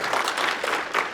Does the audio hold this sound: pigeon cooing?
no